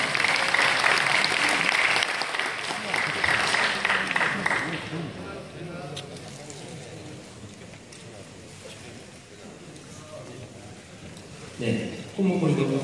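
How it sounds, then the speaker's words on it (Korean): Applause from an audience at a Lions Club district convention ceremony honoring newly elected vice district governors, loud and dense for the first few seconds, then thinning into a murmuring room with talk before a brief clap burst near the end. "여러분 축하의 박수를 부탁드립니다"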